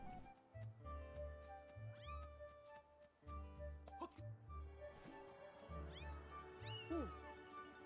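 Repeated cat meows come from Zelda: Skyward Sword HD video game, several short mews and caterwauls over a rhythmic game music backing, with a voice talking intermittently underneath.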